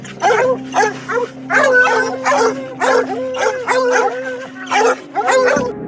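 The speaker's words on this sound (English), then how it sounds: "the dogs that keep harassing it with loud and constant barking" Several dogs bark loudly and constantly at a mountain lion, rapid overlapping barks and yips close by, with a steady low hum running underneath.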